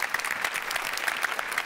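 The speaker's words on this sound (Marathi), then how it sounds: "जोरदार टाळ्यांनी स्वागत करूया" A studio audience on a Marathi comedy show claps steadily to welcome a film director. The dense, even applause sounds fairly close and continues without a break.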